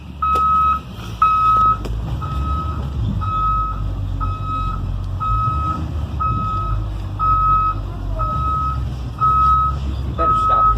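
Backup alarm of a school bus reversing on a slippery slope, a steady series of evenly spaced loud electronic beeps over a rumbling diesel engine, with people talking now and then in the background.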